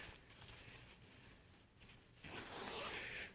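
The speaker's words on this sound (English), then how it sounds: "a zipper down here." A zipper on a body armor plate carrier vest is drawn in short raspy strokes, a quiet scratchy pull building to a louder, longer zip at the end, close up and alone.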